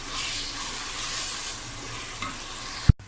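Spiced eggplant roasting in a pan gives a constant close hiss of frying, with a faint scrape of stirring and one sharp knock near the end before the sizzle drops away.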